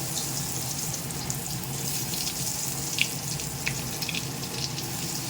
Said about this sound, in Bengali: তেল গরম হয়ে গেছে, এবারে ভাজবো বেগুন। দিয়ে দিলাম বেগুনগুলো